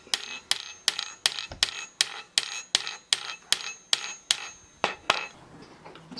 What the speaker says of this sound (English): Hammer in the nail, it should be a tight fit.